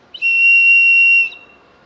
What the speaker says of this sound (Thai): โอริออนเขาก็จะมีนกหวีดมาให้นะครับ